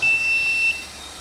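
An autoclave control panel buzzer sounds a steady, high electronic beep after the emergency switch is pressed, loud and close, holding for most of a second before cutting off.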